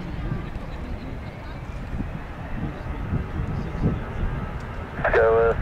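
A plane takes off at Minneapolis-St Paul airport, heard as a continuous wind-blown jet roar with radio chatter and talk layered over it.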